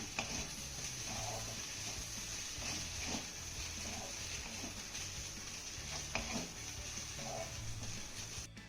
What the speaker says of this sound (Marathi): कोथिंबीर चांगली मिक्स करून घेऊया